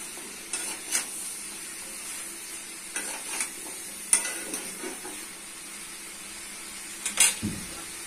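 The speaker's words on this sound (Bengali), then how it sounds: "দিয়ে দিচ্ছি ভেন্ডি, কুমড়ো, আলু, ভালো করে কষতে হবে, কষে কষে রান্না করে দিতে হবে" Okra, pumpkin and potato stir-fried in spices in a pan: a faint, steady sizzle broken by occasional scraping stirs of a spoon against the pan.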